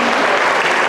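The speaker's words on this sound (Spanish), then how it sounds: "Démosle un fuerte aplauso" An audience at an educators' workshop gives a burst of loud, dense applause, heard close and alone in under a second.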